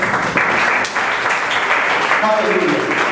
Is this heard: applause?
yes